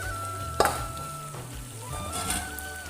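Small chopped potatoes go into a hot pan for an Assamese-style eel curry, giving a soft sizzle and a brief clatter as they drop, then gentle frying with light stirring. The sound is quiet and close, with no talk.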